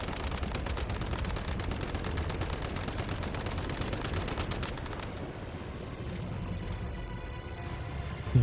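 Rapid automatic gunfire in the survival shooter Once Human, a continuous fast rattle of shots for several seconds that then stops, leaving a quieter background hum and a final thump.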